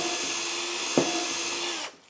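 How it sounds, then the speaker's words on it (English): A power drill whines steadily at close range, with a brief bump in pitch midway, then cuts off abruptly just before the end. "I'm now going to drill in this position."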